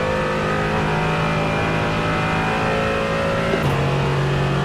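GT4 race car engines at Bathurst in iRacing, a loud, steady high-revving drone with layered harmonic whine from several cars, the pitch dropping slightly near the end as one shifts or lifts.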